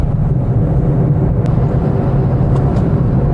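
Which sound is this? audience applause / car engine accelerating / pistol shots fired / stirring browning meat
car engine accelerating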